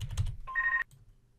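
A telephone rings once with a short electronic tone burst that cuts off abruptly, preceded by a few soft clicks and thumps in a quiet room.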